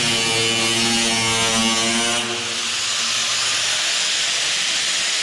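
Welding on the damaged front guard of a Ford Falcon XB GS during quarter-panel repair produces a steady, close hiss. A droning hum runs underneath and fades partway through, leaving only the continuous crackling hiss.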